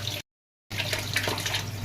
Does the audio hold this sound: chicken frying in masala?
no